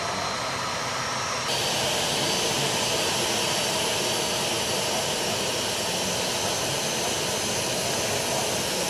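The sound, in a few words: Indonesian Air Force military aircraft at Halim airport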